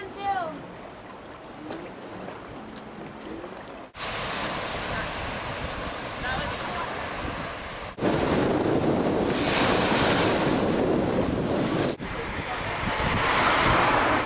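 Mediterranean Sea surf washing onto a shore in France, a steady broadband rush with wind buffeting the microphone, growing louder in later sections, with people talking intermittently over it.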